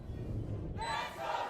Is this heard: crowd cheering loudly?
yes